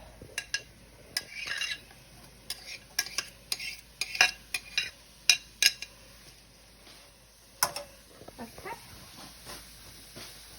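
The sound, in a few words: onions and peppers sautéing in frying pan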